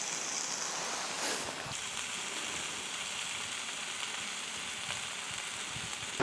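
Food sizzles steadily on a camping griddle over a gas flame outdoors in wind, a continuous soft crackle with a few brief louder pops and no talking.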